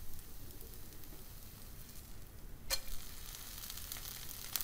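A wheat flour dhirde crepe roasts on a pan with a little oil drizzled over the top and edges, giving a faint, steady sizzle. One sharp click cuts in partway through.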